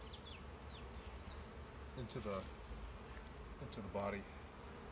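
Honey bees buzz steadily around an overfull hive being moved, a constant insect drone with a few louder close passes of individual bees, while a person talks briefly.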